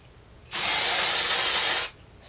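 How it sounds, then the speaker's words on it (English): An aerosol can of hair spray fires a single loud, close hiss of about one and a half seconds onto curled hair, with quiet before and after and no voices. "Spray it again."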